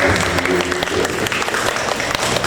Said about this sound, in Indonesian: Mohon tepuk tangan Bapak Ibu